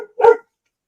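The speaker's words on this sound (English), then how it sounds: "it sounds like your dog's ready to murder somebody" A single sharp dog bark, loud and close, lasting a fraction of a second before silence.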